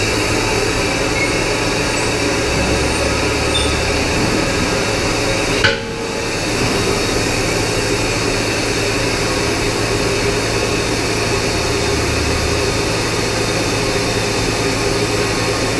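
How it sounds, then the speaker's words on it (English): Pressure hissing out of a slightly cracked-open vent valve on an Orca Gen II tank, a loud continuous broadband rush heard close up for the whole stretch, broken only by one brief knock partway through. "because our pressure is higher than our road relief, I'm going to open the vent up slightly"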